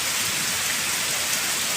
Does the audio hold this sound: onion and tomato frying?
no